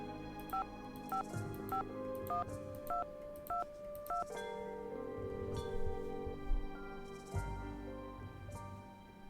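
A telephone is dialed in a Nancy Drew video game, a string of evenly spaced touch-tone beeps followed by a line tone, over quiet background music.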